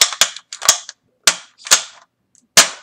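A toy blaster is primed and snapped, several sharp plastic clacks in quick uneven succession, close and loud with no talk.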